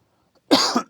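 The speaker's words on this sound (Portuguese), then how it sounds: "Desculpa a tosse." A single sharp cough bursts out after a moment of quiet, followed by the start of a second one.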